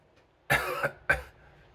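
A voice imitates a cough: two quick, close coughs, the first longer and the second short and abrupt.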